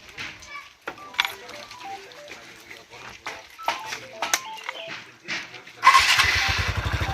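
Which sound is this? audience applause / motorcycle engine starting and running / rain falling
motorcycle engine starting and running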